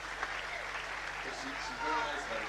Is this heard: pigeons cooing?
no